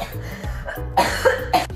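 A single person coughs several short times in close succession, near and fairly loud, in a quiet room.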